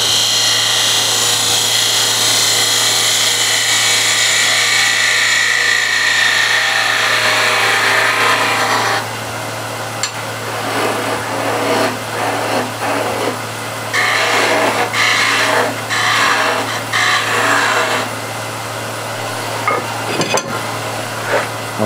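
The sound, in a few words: wood turning cut on a lathe, tapering a container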